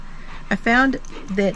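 A dog whimpers close by in a backyard shed, two short high-pitched whining cries with a brief pause between them.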